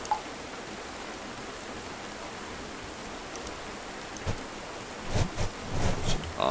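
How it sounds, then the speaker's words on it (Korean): Rain in a video game patters steadily on the roof of a Japanese family home during the rainy season, a soft continuous hiss that holds evenly throughout. A few faint, brief knocks or footfalls come near the end. "난 지붕 위로 떨어지는 빗소리에 잠에서 깼다"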